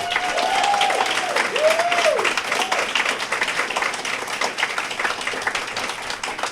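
Outdoor audience at a Fourth of July ceremony and car caravan applauding businesses and essential workers, a steady wash of clapping lasting throughout, with faint whistles or tonal sweeps early on.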